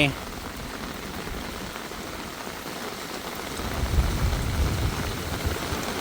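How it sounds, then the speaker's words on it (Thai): Steady rain falls on a cool, wet day at a rural home, a dense unbroken hiss that swells slightly louder toward the end. "ฝน ตก ใหม่"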